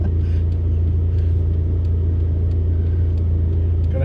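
A Vauxhall Astra H with about 74,000 miles cruises along the road, its steady low engine rumble and road roar filling the cabin continuously at a constant level, with no talk.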